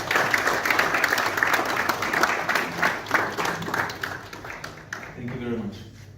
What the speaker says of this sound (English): May we now invite everybody to congratulate the co-signatories with a round of applause.